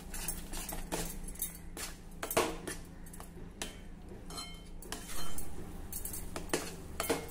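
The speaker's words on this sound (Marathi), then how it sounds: "आता आपल्याला हे चांगलं कोरडं होईल इतपत परतून घ्यायचं आहे।" A vegetable mixture stirred in a pan over a very low gas flame as it dries out, with faint clinks and scrapes of a metal spoon against the pan over a soft steady background, no voices.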